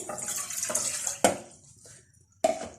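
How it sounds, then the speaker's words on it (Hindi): Water poured into a saucepan on a kitchen stove while a semolina coconut cake bakes, a steady close splashing pour broken by a few sharper splashes and pauses. "एक सॉस पैन के अंदर यहाँ 2 कप पानी डालेंगे"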